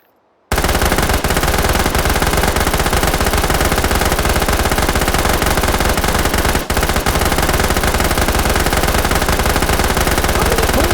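Sustained, loud automatic gunfire in a video game, a dense continuous rattle of rapid shots that starts abruptly after a brief silence and keeps going almost without pause.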